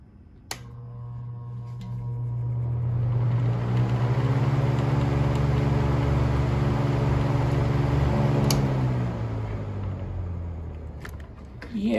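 A 1940s Hunter Zephair C16 desk fan starts on high, its motor hum rising over a couple of seconds into a steady close whir, then slowly winding down near the end, with a click at the start.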